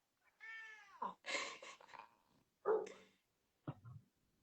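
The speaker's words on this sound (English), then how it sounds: "An Elsie cat" A cat meows several times close by with quiet pauses between the calls, and one short, sharp call near the end.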